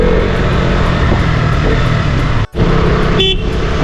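Dense road traffic in Dimapur with a steady engine roar, a brief break, then a short car horn honk cutting through the noise near the end.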